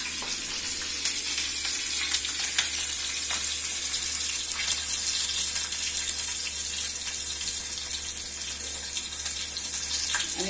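Cumin seeds and green chillies frying in hot oil in a pan for a simple rice and toor dal khichdi, a steady close hiss and sizzle that runs evenly throughout with no voices.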